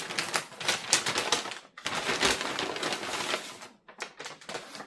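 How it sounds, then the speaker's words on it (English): Mail package being torn open by hand, loud close rustling and ripping of plastic in dense bursts with a short pause partway through. "So now we need to rip it up."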